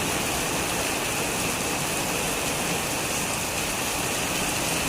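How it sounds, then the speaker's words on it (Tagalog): Loud, unbroken rush of heavy rain with a windy hiss, constant throughout and filling the whole soundscape. "Malakas ang ulan, hangin."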